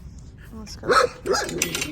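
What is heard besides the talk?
neighborhood dogs barking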